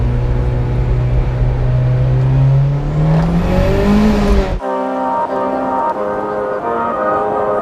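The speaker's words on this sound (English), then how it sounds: "So this is the first time this car has started up in days." A Mitsubishi Evo 8 engine whirs and climbs steadily in pitch as it revs, then abruptly drops to a lower, rougher running note that continues loudly to the end.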